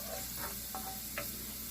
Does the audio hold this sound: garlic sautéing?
yes